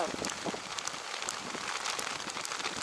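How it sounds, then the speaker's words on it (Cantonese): Hail pelts the ground and surroundings on a hiking trail in the UK, a steady dense patter of tiny hard impacts with occasional sharper clicks, continuous and fairly close. "真係落冰雹喎！ 真係冰雹喎！"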